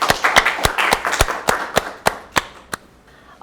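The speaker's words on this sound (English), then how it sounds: "You too deserve a warm applause." A few people clap at a gala show, sharp separate claps with the rhythm thinning out and slowing. The applause is close and without talk, fading out over a few seconds.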